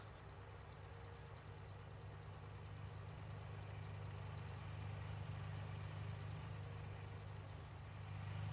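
A Challenger tractor idles in the Farming Simulator game, giving a steady, deep low engine drone that holds even and continuous with no talk over it.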